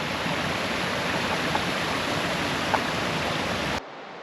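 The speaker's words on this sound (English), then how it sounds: "little fall you can see right there is a little pool" A small waterfall pours into a little pool along a mountain trail, a steady close rush of splashing water that cuts off abruptly near the end, with no voices.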